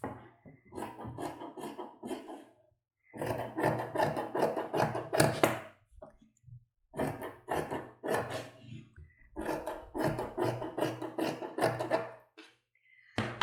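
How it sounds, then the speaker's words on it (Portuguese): Scissors cutting fabric pieces for women's shorts, several runs of crisp rhythmic snipping and rasping close by, separated by short pauses. "Vou cortar aqui mais uma vez, que assim eu vou conseguir ficar com os 6 pedacinhos que eu preciso."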